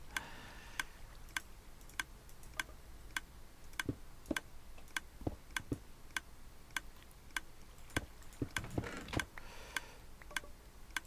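A clock ticks in a block-building video game, its crisp even ticks repeating at a steady pace, with a few soft low thumps and clicks mixed in.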